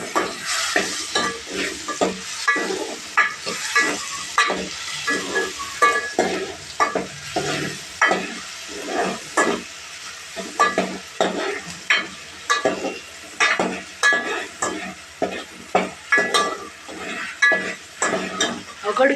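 Tomatoes and turmeric sizzle and fry in a pan while a utensil stirs them in repeated scraping strokes, loud and close in a home kitchen, with no talking.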